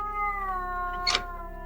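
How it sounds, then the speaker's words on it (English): A kitten that was put under hot shower water lets out a drawn-out, wavering cry, rising into a sharper strained screech partway through. The cry is close and alone. "And the cat was screaming."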